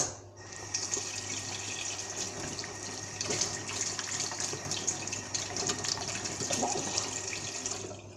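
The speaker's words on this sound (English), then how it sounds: "I'm going to wash my hands and then do my hair." Tap water runs steadily into a sink during handwashing, a close continuous hiss and splash with small shifts as hands move under the stream, no talk.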